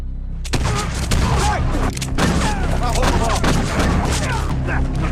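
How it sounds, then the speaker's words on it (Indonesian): Dense overlapping gunshots and booms fill a shootout scene from the Westworld series, steady and loud across about five seconds, with shouting voices mixed in under the firing. "aksi saling tembak pun terjadi"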